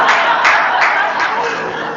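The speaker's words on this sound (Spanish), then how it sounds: "Ese aplauso te puede salir caro" An audience claps through a short burst of applause, a close, steady patter of many hands that holds for a moment and then slowly fades.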